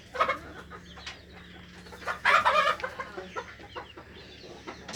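Fayoumi chickens cluck and squawk in a poultry shed with egg-laying boxes, several birds close by with a louder burst of calls in the middle, no talking.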